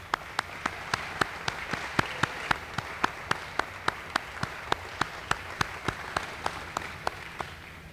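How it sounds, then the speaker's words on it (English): A seated audience at a school district aquatic center dedication ceremony applauds elected officials with a steady wash of clapping, sharp evenly spaced claps standing out above it throughout. "can we give everybody a round of applause?"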